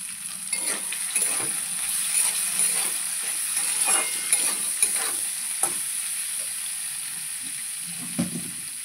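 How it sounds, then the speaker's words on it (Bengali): Shredded cabbage frying in a pan for a non-veg pasta dish, a steady sizzle with frequent scraping stir strokes and light clinks, fairly close and with no talk. "এর মধ্যে বাঁধাকপিটাও দিয়ে দেবো। দিয়ে এটাকে ভালো করে প্রায় 10 মিনিট মতো ভেজে নেব।"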